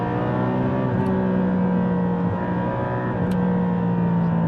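A Porsche 718 GT4 sports car engine drones steadily while driving at speed, a constant close-miked cabin hum with shifting tonal pitch and no talking.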